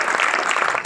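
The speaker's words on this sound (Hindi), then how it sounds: "एक बार मैडम जी का ताली बजाकर स्वागत करिए।" A brief burst of dense, even clapping from an audience at a community program on girls' upliftment, welcoming a guest with a moderately loud, continuous patter of many hands.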